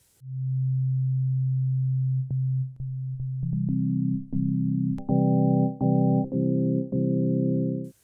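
FM synthesis tones from a Yamaha MODX/Montage synthesizer: a pure low sine-like note held for two seconds, then a run of stepped notes and chords growing brighter and richer in harmonics, each change marked by a small click.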